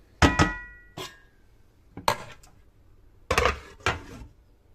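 A metal lid clanks onto a cooking pot of radish and bori curry, five sharp separate clinks and knocks spread over a few seconds, close and fairly loud.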